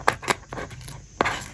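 Plastic wrapping on a DJI Osmo Pocket 3 box is cut open with a few sharp, close snips, two quick ones at the start and another about a second later, over faint background noise.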